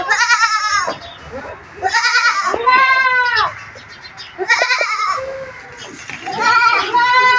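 Native country goats on a farm bleat loudly and close by in repeated overlapping calls, several animals crying one after another.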